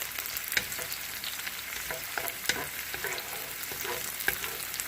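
Spicy curry powder stir-frying in a hot pan with garlic, giving a loud, steady sizzle broken by sharp spatula clicks and scrapes at irregular moments; nobody speaks.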